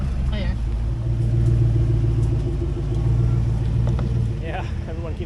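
A vehicle idles and rumbles steadily on a forest trail as it pushes a fallen tree aside with its tire, a continuous low engine drone, with someone talking at moments over it.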